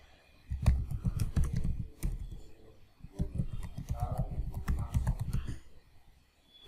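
A computer keyboard is typed on in two steady flurries of rapid clicking keystrokes, close and fairly loud, separated by a short pause, with no talking.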